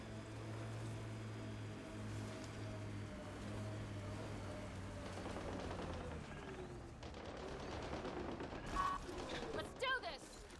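Gunfire in the video game Mass Effect: Andromeda, heard as bursts of rapid shots near the end over a low engine-like drone and game ambience.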